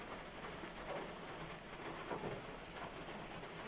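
Cold rain falls on an afternoon in Antique province, a faint, steady wash of drops hissing on surfaces in the distance, with no voices.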